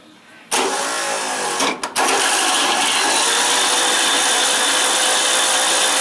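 After a moment of quiet, an 1800 Mini stroker engine cranks over on its starter with a loud, steady, whirring churn that carries on continuously, with one brief stumble about two seconds in.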